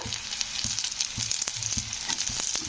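Onions and green chillies sizzle and crackle in a hot pan, with occasional soft scraping and stirring knocks at a steady pace.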